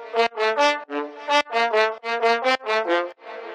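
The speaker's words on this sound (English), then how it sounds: "It's our trumpet sound, which we use a lot in other tracks." Synthesized trumpet sample from a moombahton production: a bright, brassy, harmonic-rich lead playing a quick rhythmic run of short stabbed notes, loud and alone with no voices.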